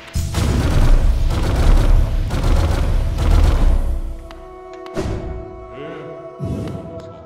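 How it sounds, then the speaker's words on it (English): Crystal-based attack smashing objects in Hollow Knight, a run of loud booming impacts for about four seconds, then quieter chimes and pops with a short burst near the end. "Plus it's fun to destroy stuff with crystal art."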